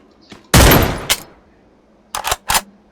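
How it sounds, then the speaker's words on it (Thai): Bursts of gunfire in the Free Fire battle royale game, coming from behind the player: a loud sustained volley, then a lone shot and two short quick bursts with silence between, no talking. "เฮ้ยด้านหลังยิงว่ะ"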